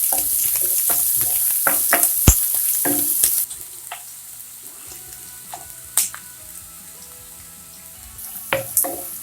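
Chopped onions sautéing in a pan until reddish for a simple cabbage palya, with a steady sizzle, repeated utensil scrapes and stirring clicks, louder in the first few seconds and then softer.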